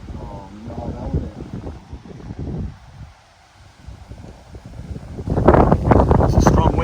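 Strong wind buffeting the microphone on a golf course, a steady rushing roar that dips briefly and then surges louder toward the end, with people talking underneath.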